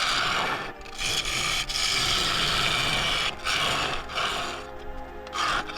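Claret ash bowl spinning on a wood lathe as the gouge throws shavings, a continuous raspy scraping with rhythmic swells and brief dips as the tool rides the wood, close and fairly loud.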